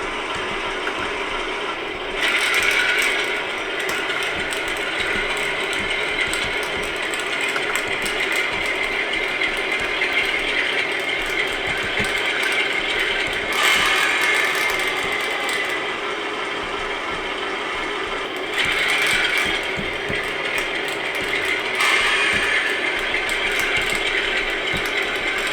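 An OO-gauge-style Class 8 model locomotive fitted with a LokSound V5 sound decoder moves forward, giving a continuous mechanical gear and motor whir with rhythmic clanking, loud and close, rising in intensity at intervals, no speech.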